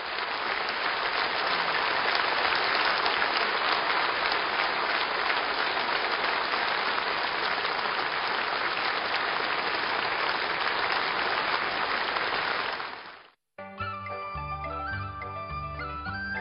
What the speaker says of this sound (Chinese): 不时赢得全场阵阵掌声